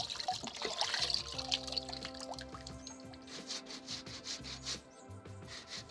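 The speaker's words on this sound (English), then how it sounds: "I'm grating now" Cassava is grated by hand for farine, giving a continuous scraping, rubbing rasp with irregular strokes, moderately close and fairly quiet, with no talking.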